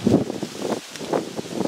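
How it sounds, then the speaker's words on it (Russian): Strong wind gusts buffet the microphone in a continuous low rumble and rustle, rising and falling unevenly, with no talking. "Ветер сегодня сильный."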